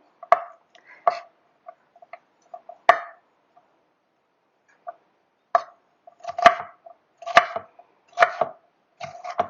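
A knife rough-chops vegetables for a pasta salad on a cutting board, giving sharp, close, irregular thunks in short clusters separated by brief pauses.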